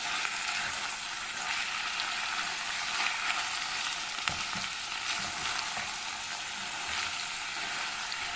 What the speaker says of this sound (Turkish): Böyle birlikte kavuralım. 2 dakika kadar.